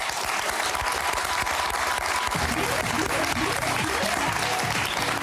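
Loud, dense audience applause in a TV game show studio on Motus, a sustained wash of clapping with musical tones rising beneath it in the second half.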